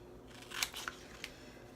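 Scissors snip through a Chalk Couture stencil for a reverse canvas project, a few quiet, close, crisp cuts in a short irregular cluster followed by one more snip.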